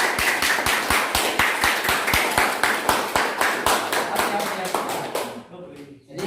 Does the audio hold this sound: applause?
yes